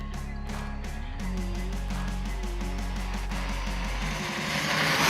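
A Rlaarlo DSK RC car running on 6S power at full throttle, its electric motor giving a steady, loud high-pitched whine with rising and falling tonal sweeps, alone with no voices.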